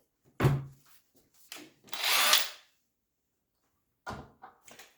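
A Parkside 20V cordless impact wrench, fitted with a 13 mm bit, drives a 9 cm screw into wood in two short bursts, a sharp stab and then a longer rattling whir, followed by faint handling knocks.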